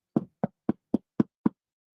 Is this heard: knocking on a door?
yes